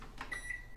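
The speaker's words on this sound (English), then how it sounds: "I'm going to put that in the microwave to melt." A microwave oven runs while melting about 500 grams of chocolate, with a faint hum, a thin steady beep tone and soft clicks or door knocks at both ends, brief and quiet.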